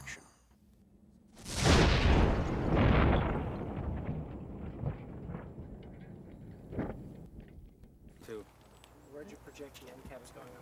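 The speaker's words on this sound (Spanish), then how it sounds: "Esta explosión fue tan poderosa que parte de la caja de cartón perforó la puerta de acero del auto" A pipe bomb packed in a cardboard box bursts beside a car, a sudden loud blast followed by a long rumbling roar that slowly fades, with faint later thuds.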